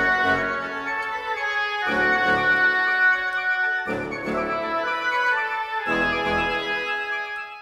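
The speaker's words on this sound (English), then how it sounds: "And we have contra bassoon, regular bassoons, clarinets, oboes, flutes, and piccolo. And so that sounds like this." A full woodwind section of contrabassoon, bassoons, clarinets, oboes, flutes and piccolo plays four swelling sustained chords in a steady rhythm, rich and fairly loud, with no voices.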